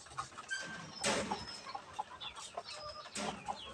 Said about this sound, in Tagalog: Yan po yung tandang ko na hindi pa po kumakasta.